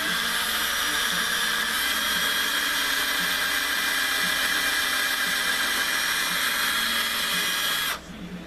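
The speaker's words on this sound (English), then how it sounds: "Let's just drill a hole in it for the" A power drill bores a hole into a turned wooden pull-string top, a loud, steady, close whine that holds for about eight seconds and then cuts off abruptly, with no talking.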